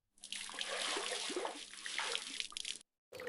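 Water splashes and runs steadily as feet are washed during wudu in a cartoon, a close continuous gush that stops abruptly before a brief resumption.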